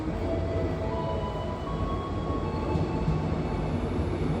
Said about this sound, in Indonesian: Ini kereta menuju ke Kota Pariaman. Udah masuk stasiun.